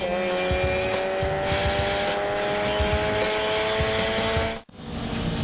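Showroom Stock C race cars run at Mid-Ohio during the SCCA Runoffs, a dense close engine roar with overlapping revs from several cars, cut by a sharp brief dropout near the end before picking back up.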